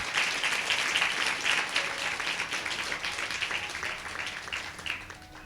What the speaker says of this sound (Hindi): परमेश्वर के लिए एक बार जोरदार ताली बजाएंगे।